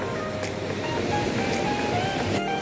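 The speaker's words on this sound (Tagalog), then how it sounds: "Yan na yung alon." Ocean waves wash onto the shore near fishing boats at sunrise, a steady, continuous surf roar with no clear breaks, fairly loud and unbroken throughout.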